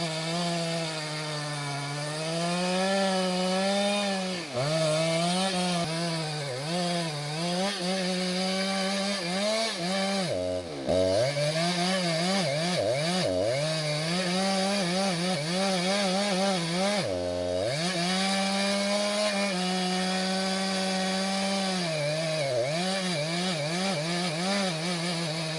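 A chainsaw cuts timber during a harvest, its engine droning continuously up close, with the pitch rising and falling under load and two brief dips where the throttle drops.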